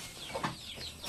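Chickens cluck softly at feeding time in a farmyard, a few quick overlapping clucks and chirps, fairly faint and close together with no talk.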